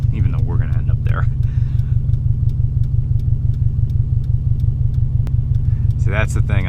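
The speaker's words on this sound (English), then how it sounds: "I like it that it's smoothly idling under 500 RPM" A muscle car engine idling under 500 RPM, deep and steady with a lumpy, rhythmic pulse, close by and constant, with brief talking at the start and end.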